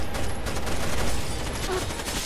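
Rapid automatic gunfire in Rainbow Six: Vegas 2, a loud, dense, continuous burst of shots filling the short moment.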